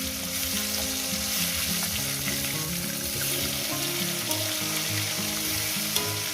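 Fish sizzle and crackle steadily in hot oil in a frying pan, a continuous close hiss with small pops and no voices.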